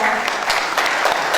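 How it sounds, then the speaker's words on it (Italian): At a Neapolitan song festival, a crowd applauds to welcome a guest singer, a brief, dense wash of clapping that is loud and continuous throughout, with a voice faintly audible underneath. "io vi chiedo un loro fortissimo applauso"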